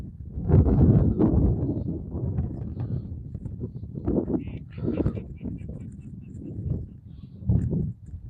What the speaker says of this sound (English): It's kind of windy out here today, so I put my external mic on.